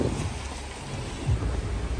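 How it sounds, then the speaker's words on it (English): Steady rain hisses throughout in Fiji while thunder rumbles low and distant, swelling briefly near the end. "The weather's not good today, it's been like raining on and off."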